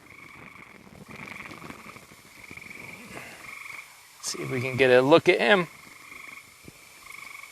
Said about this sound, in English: This is another great tree frog.